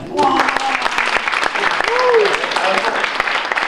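An audience at a growth-hacking marketing talk bursts into dense, sustained applause close by, with scattered voices and exclamations mixed into the clapping throughout.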